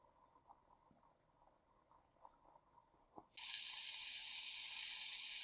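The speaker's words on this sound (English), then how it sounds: "Once the pork starts to sizzle" A quiet kitchen with faint clinks, then a sudden loud, steady sizzle of salt pork hitting a hot pan that continues to the end.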